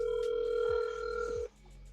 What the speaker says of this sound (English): Who making a phone call?